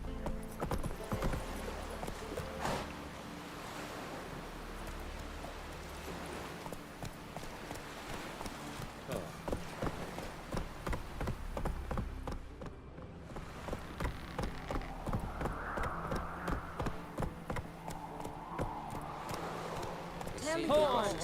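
Hooves of a horse clip-clop steadily at pace across the ground in the video game The Witcher 3, a continuous quick rhythm running under game ambience, with voices talking over it.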